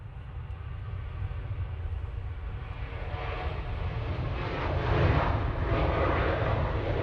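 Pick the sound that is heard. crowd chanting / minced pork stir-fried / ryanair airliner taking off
ryanair airliner taking off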